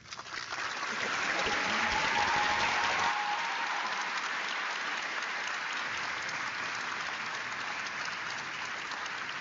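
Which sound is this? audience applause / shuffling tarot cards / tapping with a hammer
audience applause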